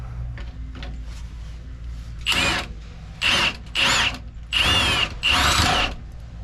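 A tool works loose the bolts on the carrier bearing of an International 4900 truck, five close, loud whirring bursts coming in quick succession after a quiet stretch of faint clicks.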